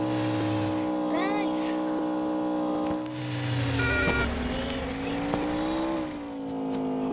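A car in the Indian Theft Auto driving game speeds along with a steady, droning engine tone that rises and falls slightly in pitch, and a voice speaks over it at times.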